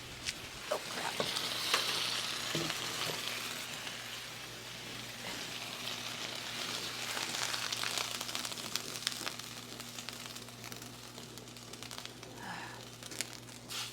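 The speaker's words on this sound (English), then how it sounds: "That was too much of a boil. I had to run because my grape jelly that I'm boiling over there" Grape jelly boiling over on a stovetop, a steady close sizzling and frying hiss with crackling pops, a low constant hum underneath.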